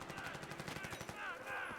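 Rapid automatic gunfire in a Battlefield 3 multiplayer match, dense bursts of shots filling the clip with a voice talking over them.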